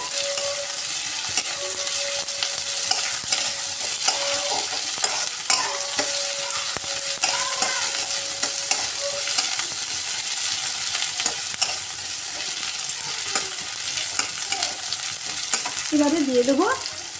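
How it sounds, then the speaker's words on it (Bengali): A fairly large onion fries in hot oil in a pan for an okra and Malabar spinach dish, a steady close sizzle broken by repeated scraping stir strokes throughout. "পেঁয়াজটা ভাজা ভাজা হয়ে আসছে।"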